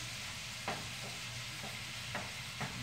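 Ground meat browning in a pan for taco soup, with a steady close sizzle and a few soft scrapes of stirring.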